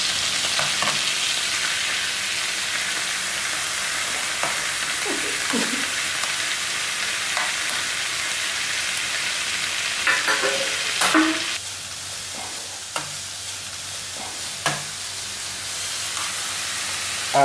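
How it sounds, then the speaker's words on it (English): An Apple iPad immersed in liquid nitrogen gives off a steady, loud boiling sizzle and hiss, like frying, running throughout with a few brief clicks and pops near the end. "It's boiling in liquid nitrogen."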